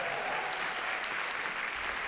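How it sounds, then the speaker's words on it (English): Steady round of applause from an audience at an arts foundation launch event, even and continuous, moderately distant, with no speech over it. "let's give another round of applause to Patrick Lavie and Emma Hedrick"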